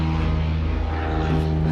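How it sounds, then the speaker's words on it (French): Airplanes fly overhead outdoors in a steady, loud propeller drone with a pulsing low hum that holds throughout, and no voices come through. "On a eu plein d'avions"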